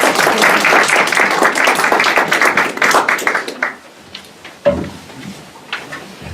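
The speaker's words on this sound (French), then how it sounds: "Une bonne main d'applaudissements pour l'animation" Audience applause at a tribute event at Château Richer, dense sustained clapping for a few seconds before fading out into a few scattered claps and light room noise.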